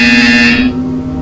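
A buzzer sounds in the video game Portal Stories: VR, a loud steady electronic tone that holds for about half a second and then cuts off, leaving a low hum behind it.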